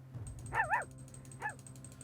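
The Forsaken Pup, a dog enemy in the video game Vault of the Void, lets out a high whimpering yelp, then a second shorter whine, both close and clear over a quiet background.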